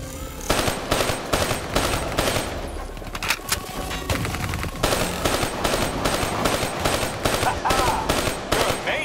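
Loud bursts of rapid automatic gunfire in Call of Duty: Black Ops III, fired to shoot down bats. Repeated rattling volleys are separated by brief pauses, with a short lull in the middle.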